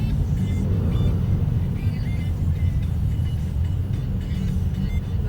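A car moves through road traffic, giving a steady, loud low rumble of engine and road noise from inside the vehicle with no pauses.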